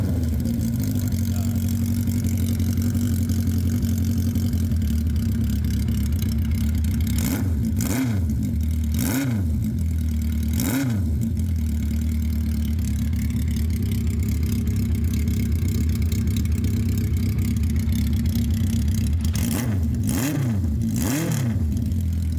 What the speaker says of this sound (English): some sweet, sweet exhaust and some wonderful back roads